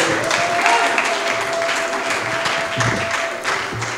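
Congregation at a French-speaking church service applauding in praise of God, a dense steady wash of clapping from a crowd, sustained throughout at moderate loudness with no clear talk.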